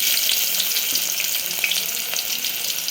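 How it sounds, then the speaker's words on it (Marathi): An onion dropped into hot oil for mutton biryani fries with a dense, steady sizzle that holds evenly and close throughout. "तेल छान गरम झाल्यानंतर एक कांदा टाकायचा"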